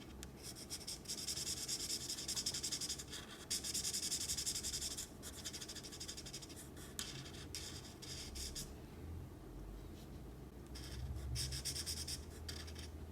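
Grey marker colouring in part of a drawing of an emoji, with faint, close scratchy strokes rubbing across paper in repeated bursts and short pauses.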